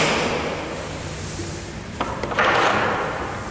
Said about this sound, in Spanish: Puerta abriendo y cerrando suavemente.